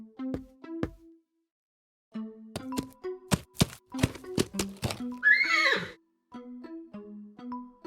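Horse in the Willi Morgan and the Curse of Bone Town video game, with a loud, shrill whinny rising and falling midway, surrounded by plucked, tuneful notes and sharp percussive knocks.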